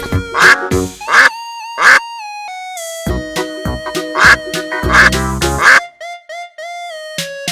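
A cartoon duck quacks in a run of short, loud calls over playful music in an animated farm-animal song, with quick pauses between the quacks.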